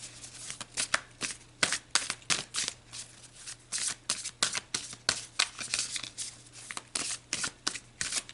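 A tarot deck being shuffled by hand, with close, crisp riffles and card slaps repeating in quick irregular bursts over a faint steady hum, and no voices.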